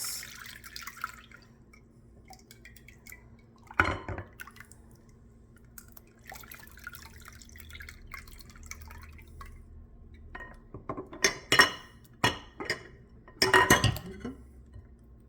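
Tamarind juice being strained through a sieve in a kitchen, with faint trickling and dripping throughout and several sharp clinks of utensils against a bowl, close by and mostly quiet apart from a few louder knocks near the end.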